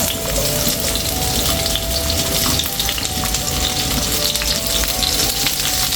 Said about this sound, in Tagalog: So magigisa na tayo ng sibuyas